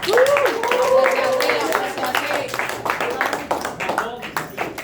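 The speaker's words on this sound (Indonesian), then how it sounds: "Maka dari itu tepuk tangan untuk semuanya." Classroom clapping for all the presentation groups, scattered hand claps of moderate loudness, with a voice speaking over them at the start.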